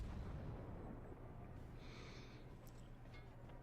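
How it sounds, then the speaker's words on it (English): A World of Warships Kuma cruiser fires a single low booming salvo, a heavy rumbling blast that fades into a long, muffled decay with faint distant pops. "Singular shooting this time."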